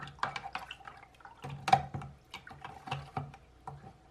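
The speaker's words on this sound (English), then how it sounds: "Let me give it a little extra little splash." Water splashing and dripping while reef tank water is mixed by hand, close and fairly quiet, with irregular small plops and trickles scattered over a few seconds.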